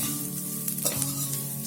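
Roasted methi shingole with red chili powder sizzles briefly in a little oil while being gently turned, a short, quiet frying hiss over a faint steady hum.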